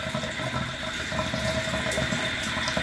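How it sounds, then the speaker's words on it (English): Water drains from a bathtub after a repair to the drain stack, a continuous gurgling, rushing flow heard close and steady throughout, with no voices. "It's not plugged up, you can hear it. And that's draining."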